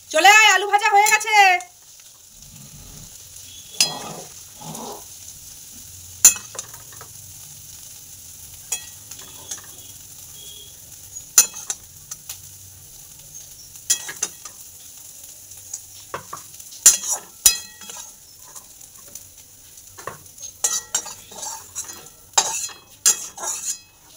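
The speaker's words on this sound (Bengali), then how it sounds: "চলে আয়, আলু ভাজা হয়ে গেছে।" Potatoes frying in a pan are stirred with a metal spoon, giving soft sizzling under scattered scrapes and clinks of utensil on pan, with a brief sung or spoken voice at the start.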